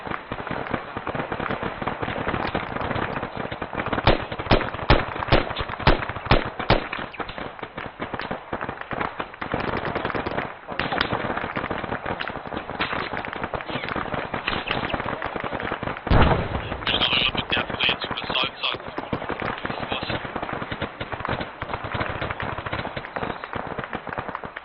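Gunshots crackling during military platoon training, with rapid runs of sharp reports and scattered single shots over about twenty-five seconds, plus one heavy closer blast, and no voices.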